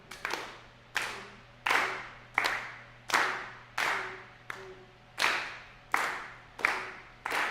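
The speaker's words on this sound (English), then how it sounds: "and clap the top line, and this half the room is going to clap the bottom line" A room of string pedagogy students clapping together in quarter notes: eleven evenly spaced, unison claps with a short reverberant tail after each, loud and clear with no talking.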